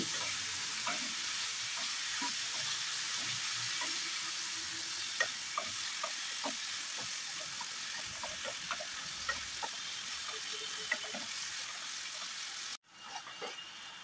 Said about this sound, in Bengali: সব উপকরণ দেওয়ার পর আলু পটলগুলো 2 থেকে 3 মিনিট এভাবে নেড়েচেড়ে মিডিয়াম ফ্লেমে ভেজে নিচ্ছি